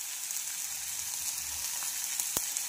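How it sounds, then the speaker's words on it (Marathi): Dried shrimp chutney with salt and turmeric powder sizzling in a pan, a soft, steady frying hiss with one brief sharp clink near the end. "आणि छान असं याला फ्राय करून घ्यायचं आहे"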